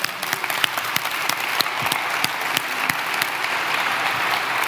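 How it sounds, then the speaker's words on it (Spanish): Applause from a church congregation during a sermon, many hands clapping in a steady crackle with sharper individual claps standing out, moderately loud and without speech. "da un aplauso a Dios."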